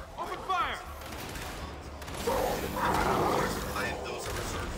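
Gunfire in the video game Gears 5, a burst of rapid shots mixed with explosive booms and in-game voices, growing denser toward the end.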